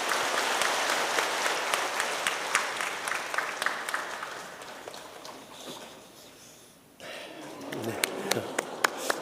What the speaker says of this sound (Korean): 우리 뜨거운 날 처음 나오신 분들 뜨거운 박수로 환영하겠습니다.